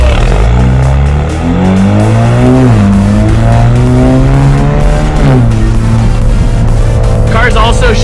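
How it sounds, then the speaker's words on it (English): A loudly modified Alfa Romeo engine drones close and loud while driving, its pitch rising and dipping through gear changes, with someone talking over the steady engine roar. "this car just, it sounds obnoxious"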